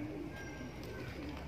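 A Kasuri Kamagar pigeon gives soft, low cooing at the start and end against quiet background noise.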